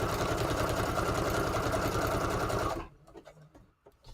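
Foot-pedal-operated sewing machine stitching in a fast, loud, steady rattle for almost three seconds, then stopping, leaving quiet handling noises.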